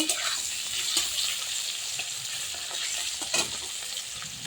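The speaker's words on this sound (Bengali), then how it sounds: "মাছটাকে আমি একটু ভেজে নেব।" Salted, turmeric-coated koi fish fries in smoking hot oil, giving a steady, dense sizzle with a few louder crackling pops, close up and with no talking.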